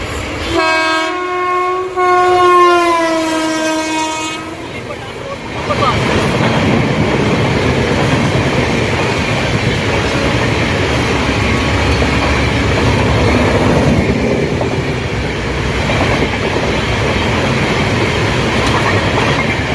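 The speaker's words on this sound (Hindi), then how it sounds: "काफ़ी ट्रेन यहाँ पर नहीं रुकती, सीधे रन थ्रू मेन लाइन से निकल जाते हैं।" A train passes through Jalandhar Cantt station on the main line without stopping, sounding a long loud horn before a sustained, heavy rumble and clatter of wagons rolling close by.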